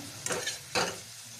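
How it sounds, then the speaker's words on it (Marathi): Pumpkin roasting in a pan for kheer, two distinct scraping stirs against a steady low sizzle, close by and fairly quiet. "असं भाजून घ्यायचं आहे भोपळा"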